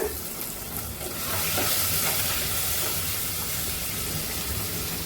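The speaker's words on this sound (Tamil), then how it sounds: "இப்போ வெங்காயம் பாதி வதங்கிடுச்சு. அதில் கருவேப்பிலை போட்டுட்டு" Half-cooked onions with curry leaves sauté in a pan for a homemade mansatti chicken gravy, giving a close, steady hissing sizzle that swells louder after the first second and keeps going without break.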